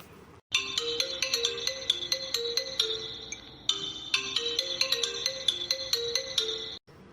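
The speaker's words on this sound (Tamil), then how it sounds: "மணிலாம் அடிக்குது யாரா இருப்பா" A phone ringtone plays loud and close, a bright repeating electronic melody that stops briefly and starts again, with no voices over it.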